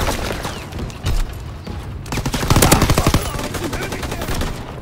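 Call of Duty WW2 multiplayer battle with a single sharp shot, then a loud burst of rapid machine gun fire in fast repeated cracks that continues amid ongoing battlefield noise.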